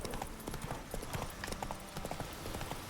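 Horse hooves clip-clop steadily on the ground in The Witcher 3: Wild Hunt, a continuous rhythmic trot at moderate loudness with faint game ambience.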